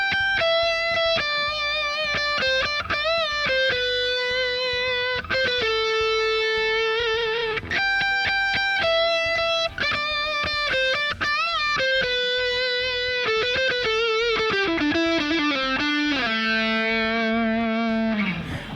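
Electric guitar plays the intro riff of a song with a distorted, effects-laden tone. Choppy repeated notes, bends and short stops run continuously for nearly twenty seconds, with no voices.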